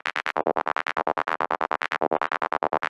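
Serum 2 synth lead gated by its first LFO trigger, a rapid, steady stutter of bright buzzy pulses, loud and upfront with no voices.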